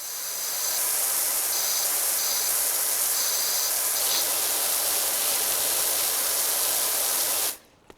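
Steady, loud hiss of a pressure washer jet in the video game PowerWash Simulator 2, running without a break for several seconds before it abruptly stops.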